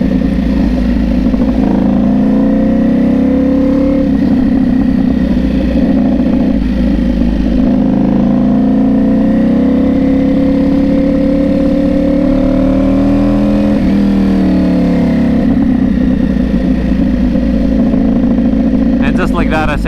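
Ducati Panigale V4 on a dyno, its engine revving hard and continuously at high load, loud and close, with pitch rising and falling through the runs.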